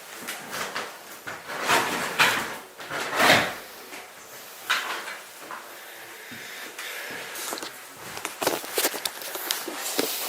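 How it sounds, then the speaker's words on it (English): An old door in a long-abandoned Gothic mansion is dragged and forced shut, with creaks, scraping and heavy thuds, then footsteps and shuffling in the empty room. "I'm going to try and shut this door"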